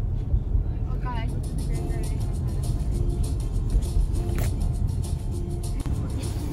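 A car drives along a road with a steady, loud engine and road rumble throughout, and voices talk over it.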